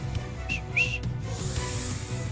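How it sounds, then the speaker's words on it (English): A short two-note whistle call in the video game Pokémon Let's Go Pikachu, used to summon a bird Pokémon, rising brightly twice over steady background game music. "When I whistle, I can summon a bird Pokemon."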